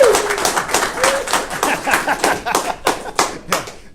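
A small group clapping at an indoor meeting in Oklahoma City for State Representative Bobby Cleveland, brisk claps in a fairly regular rhythm with a chuckle near the start.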